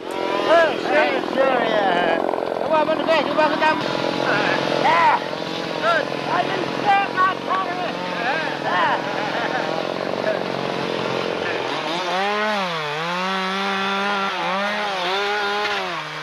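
A chainsaw's engine whines and revs while cutting wood in a forest in the James Bay region, rising and falling in pitch as it bites, with a voice talking over the first part.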